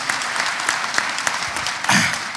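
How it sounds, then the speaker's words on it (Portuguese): A conference audience in Brazil claps steadily for an economist on an economic-outlook panel, a dense, even patter of many hands that swells briefly near the end before a voice cuts in. "Tem uma palmas para ele de novo, porque realmente merece"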